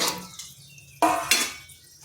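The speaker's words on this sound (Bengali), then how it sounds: "এখানে নিয়েছি একটা প্রেসার কুকার এরপর ডালগুলো দিয়ে দিচ্ছি দিয়ে দিচ্ছি লাউগুলো" Lentils and chopped bottle gourd go into a pressure cooker for a vegetarian dal, making a few soft clattering and splashing impacts against the metal pot, with two sharper hits near the middle.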